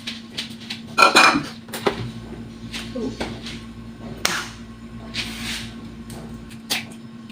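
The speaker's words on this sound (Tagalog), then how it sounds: "Ngayon, niluluto ko ng itlog at magsasangag ako ng kanin dahil ito yung almusal ko." Clinks and clatters of a pan and utensils while eggs cook for a breakfast of eggs and garlic fried rice, with a sharp cluster of knocks early on and lighter scattered taps after.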